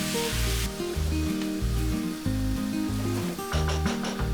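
Sliced onions and tomatoes sizzle in a karahi for a beef karahi as they are mixed, a faint frying hiss under loud rhythmic background music.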